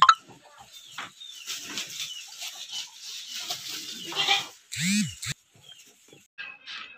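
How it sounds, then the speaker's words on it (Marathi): A goat in a village farmyard bleats once clearly near the middle, amid sparse rural sounds including chickens clucking and faint voices, with quiet gaps between. "हे बघा शेळी."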